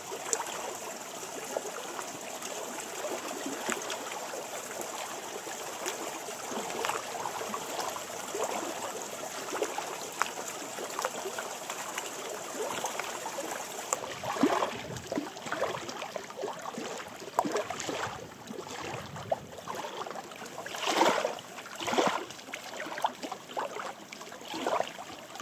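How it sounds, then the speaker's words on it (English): The Shannagh River flows out of Lough Shannagh in the Mourne Mountains, a steady close rush and trickle of water running throughout, with occasional louder splashes and gusts. "There's the Shannagh River just coming out"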